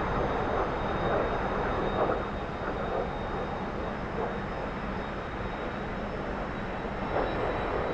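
T-45 jet engine in the DCS flight simulator game, a steady loud broadband roar holding evenly throughout.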